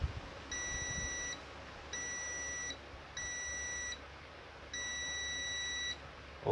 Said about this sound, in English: Have the tester in beep mode.